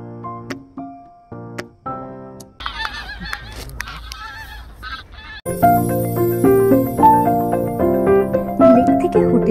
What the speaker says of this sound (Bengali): এক ঝাঁক বুনো হাঁস, যাকে ইংলিশে বলে ম্যালার্ড, লেকের উপর দিয়ে উড়ে গেল